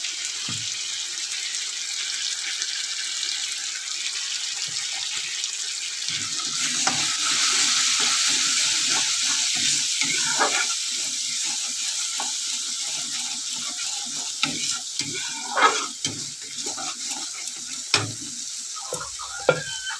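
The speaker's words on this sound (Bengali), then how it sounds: "মশলাটা ভাজা হয়ে যাক" Ground cumin and meat masala fry in a pan while an egg curry is cooked, giving a steady broadband sizzle throughout, with occasional clinks and stirring knocks near the end and no talking.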